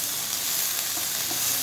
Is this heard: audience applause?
no